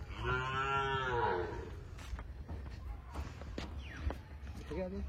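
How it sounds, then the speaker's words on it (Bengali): A cow lets out a loud, drawn-out moo up close at a West Bengal cattle market during Bakrid, followed by scattered hoof knocks and shuffling while people talk in the background. "গরু দেখুন।"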